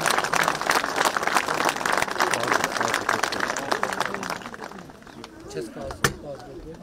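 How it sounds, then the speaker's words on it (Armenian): An audience at a public speech breaks into loud, dense applause, many hands clapping together. It holds steady, then thins into scattered claps, with voices rising underneath as it fades. "մեր արամին եկեք ծափահարենք"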